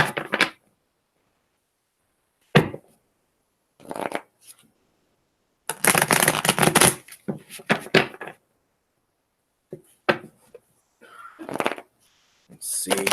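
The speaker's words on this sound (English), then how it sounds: "Jeremy, you got 3 more shuffles, Jeremy." Tarot cards being shuffled by hand at a reading session, several separate bursts of riffling and shuffling with short pauses between them, close and fairly loud, with brief talk in between.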